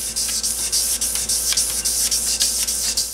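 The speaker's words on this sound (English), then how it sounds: "So now that we actually got a piece of sandpaper on there, that we're just gonna go back and forth like this for a little bit." Rhythmic back-and-forth rubbing of fine 2000 grit sandpaper on a crankshaft journal during a stroker V6 engine build, about a dozen even strokes, close and loud with no talk.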